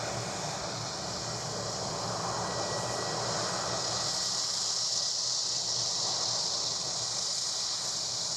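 A JetBlue airliner at Edinburgh Airport, its jet engines giving a steady, sustained roar with a high whine on top, moderately distant and unchanging.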